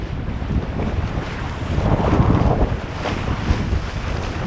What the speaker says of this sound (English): The wind is about 12 knots.